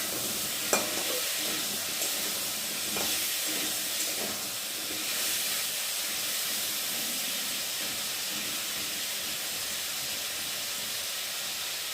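Papaya and potato pieces fry in a pan with a steady, close hiss and sizzle that runs throughout, with a few faint clinks from stirring.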